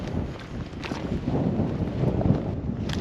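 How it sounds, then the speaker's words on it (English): Strong wind gusts across an exposed Arizona mesa top, a continuous loud rushing roar with buffeting against the microphone and no voices. "Quite windy though."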